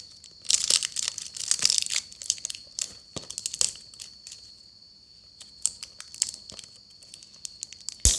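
A chlorophyll-algae collagen product package is torn and crinkled open up close, with sharp bursts of crackling plastic and paper separated by short pauses and no talk.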